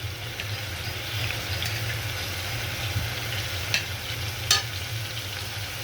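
Garlic and cumin pastes fry in a pan for a fresh river fish dish, a steady close sizzle with occasional soft stirring scrapes and a low hum beneath.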